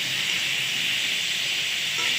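Thick-cut bitter gourd fries in oil, giving a continuous, even, close hiss with no clear pauses.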